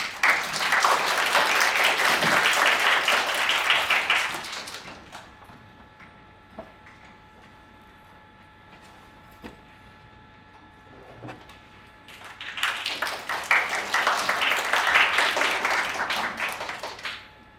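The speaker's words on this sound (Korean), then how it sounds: "큰 박수로 맞이해 주세요" An audience at a youth camp concert event bursts into loud sustained applause, falls to a near-quiet room with a few faint ticks and knocks, then breaks into a second strong round of clapping.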